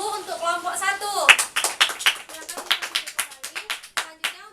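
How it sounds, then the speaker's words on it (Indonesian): A teacher speaks briefly, then a small classroom of pupils claps for group 1 in scattered, uneven bursts that fade toward the end. "tepuk tangan dulu untuk kelompok 1"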